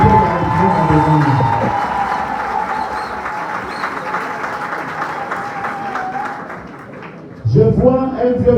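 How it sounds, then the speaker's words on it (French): Sustained audience applause and cheering from a large crowd at a political rally, loud and steady for several seconds before fading, with a voice returning over the tail end. "Je vous demande d'applaudir Libama Marcel, député de la République."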